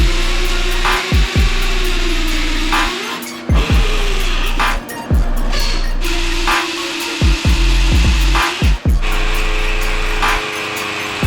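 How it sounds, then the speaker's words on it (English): A power drill bores holes into a home garage's concrete floor for a two-post car lift, grinding in repeated loud, close bursts, the motor whining up and down between short pauses. "we just wanna drill some holes in the concrete"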